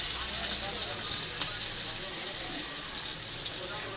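Bangda fish frying in a pan on a low gas flame: a steady, dense sizzle and crackle held at an even level throughout, close by, with faint voices beneath.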